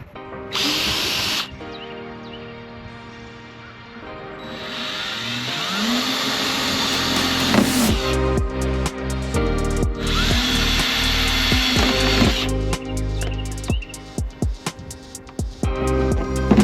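A power drill drills out the rivets holding a Jeep's front and rear fender flares, with a high whirring whine that bursts on and off in several runs, close and loud, with clattering as each rivet gives way, and no talking.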